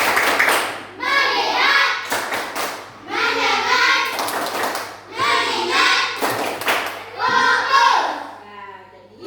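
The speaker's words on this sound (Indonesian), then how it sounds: "kita tepuk fokus dulu agar tidak salah nanti dalam bekerja" A classroom of children chanting and clapping hands in rhythm to a 'tepuk fokus' focus cheer, several bursts of clapping under the group chant.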